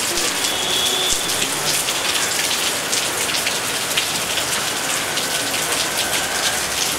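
Heavy rain pours down steadily during an outdoor music video shoot, a dense, continuous hiss of drops hitting surfaces at close range with no pauses.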